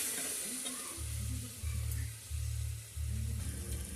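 Coriander and mint leaves sizzle steadily in hot oil in a pan for tomato rice, a soft continuous frying hiss with rhythmic low scraping from stirring and no talk.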